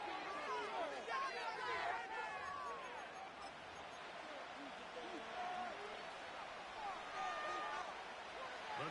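Stadium crowd at MetLife in a Madden football video game, a steady roar and murmur of fans filling the whole stretch, swelling slightly near the start and end with no voice on top.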